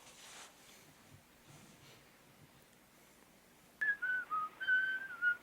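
After a few seconds of quiet rustling, a man whistles a short melodic tune, clear and close, with several distinct notes, in the 1931 film M.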